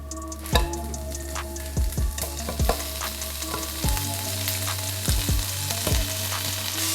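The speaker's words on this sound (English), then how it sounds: "now that I got the sausage fried up" Andouille sausage fries in a pan with a continuous close sizzle, broken by several sharp clinks and scrapes as it is stirred.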